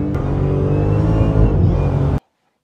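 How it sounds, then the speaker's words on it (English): A 2018 808-horsepower Dodge Demon and a 2023 Dodge Demon 170 accelerating hard from a race start, a loud, close, sustained roaring engine note climbing steadily before cutting off abruptly. "Today, I will be racing my 2018 808 horsepower Dodge Demon versus my last call matching VIN 2023 Dodge Demon 170"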